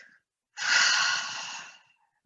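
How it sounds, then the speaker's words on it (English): One long, breathy exhale, close and clear, trailing off gradually after a short quiet pause. "Breathing in deeply and exhale so you can hear your breath."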